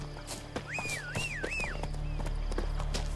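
Hooves clop in a steady rhythm as a horse moves along in The Witcher 3, close and fairly quiet over a low ambient drone, with a pitched tone wavering above.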